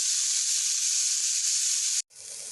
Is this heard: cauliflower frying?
yes